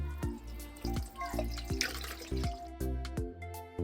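Syrup drains from an 800-gram can of peaches in a kitchen, a steady series of distinct, evenly spaced drips and splashes, close and fairly quiet, with no talking.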